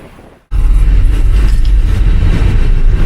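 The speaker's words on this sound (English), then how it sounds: "The sun's shining, the wind's blowing." Outdoors in the Scottish Highlands, wind buffets the microphone in a loud, close, continuous low roar that starts abruptly after a brief quieter moment.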